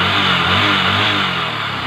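A small motorcycle engine fitted with a diaphragm-type carburetor revs at high RPM, a loud, steady, close buzzing drone with a slight fluctuation in pitch.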